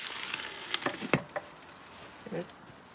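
Spices are stirred into a hilsa fish curry frying in a pan, with pumpkin vadi and flat beans, giving a soft steady sizzle broken by a few close scraping clicks of the spoon against the pan.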